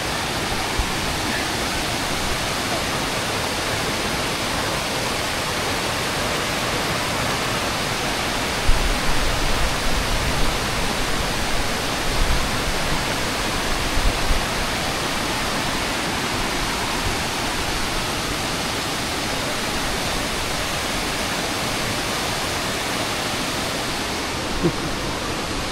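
Cabugahay Falls pours in a constant, broadband roar of rushing water, loud and near, steady for the whole stretch with faint voices barely surfacing.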